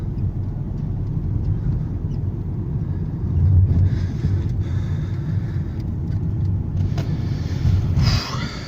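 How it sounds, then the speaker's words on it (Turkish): A car engine drones steadily up close, revving high because the throttle stays pressed while shifting gears, its low rumble swelling a little louder at a couple of points, with no talking. "Normalde deviri düşürmesi gerekirken devrimiz daha da yükseliyor."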